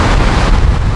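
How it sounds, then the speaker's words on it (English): Strong unseasonal westerly wind gusting through a city business district, a loud roaring rush buffeting the microphone continuously, with no voices. "The unseasonal westerlies whistling through CBD"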